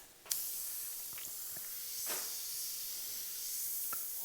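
Airbrush spraying black base coat around the outline of a skull painted on a saddlebag, a steady close hiss of air with a few short clicks and taps, no voices.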